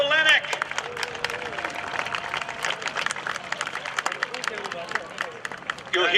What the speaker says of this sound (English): Would you join me in a big round of applause for Vlado Lenoch?